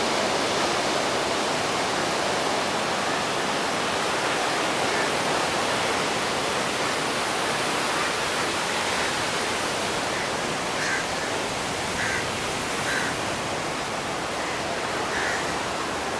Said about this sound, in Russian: Океан.